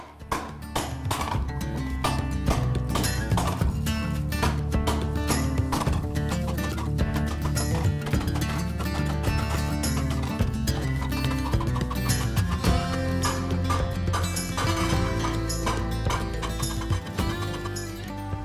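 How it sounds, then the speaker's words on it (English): A hand-forged steel skillet is hammered into the depression of a swage block at a blacksmith's forge, making a dense, continuous series of loud ringing metal strikes in quick rhythm with no talking. "I'm going to start using the depression in the swage block here to start dishing"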